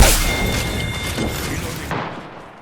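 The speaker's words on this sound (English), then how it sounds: "Thermite grenade out." A thermite grenade in the Apex Legends video game bursting with a loud boom, followed by crackling, burning fire that slowly fades.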